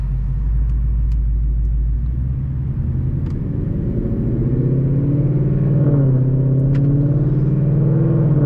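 Modified 2018 Ford Mustang GT V8 engine heard from inside while driving, a loud steady low rumble that rises in pitch as it accelerates, with no talking.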